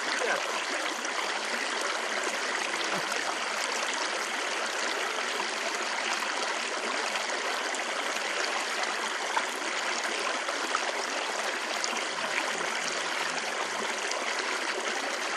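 Water flows steadily outdoors at the San Marino sewer channel, a continuous broadband rush and trickle that stays even and close throughout, with no clear voices over it.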